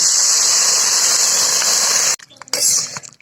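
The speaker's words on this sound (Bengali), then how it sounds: "এখন আমি দিয়ে দিই পরিমাণ মতন জল" Water poured into a hot pan of bitter gourd shukto, a loud steady hissing rush for about two seconds, then abrupt silence broken by brief clatters and a short burst of steam.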